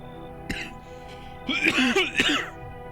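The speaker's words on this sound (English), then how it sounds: "I'm still getting over a cough." A person coughs several times, a short cough first followed by two harsher, louder coughs close to the listener.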